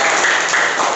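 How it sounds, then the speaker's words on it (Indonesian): Classroom applause for a teacher, Pak Agus, during a lesson on the human skeleton: a short, steady patter of many hands clapping together, fairly loud and close. "Coba tepuk tangan dulu Pak Agus."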